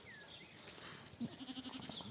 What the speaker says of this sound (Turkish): gece koyunlarımız burada yatıyor.